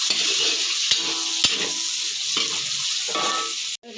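Shrimp joins pancit noodles with chicken balls and kikiam frying in a pan, a close, continuous sizzle broken by a few sharp stirring clacks before a sudden cutoff near the end; no one talks.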